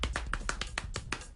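A child performs body percussion during a primary school lesson, slapping the thighs in a quick, even series of about seven soft, close slaps with no talking.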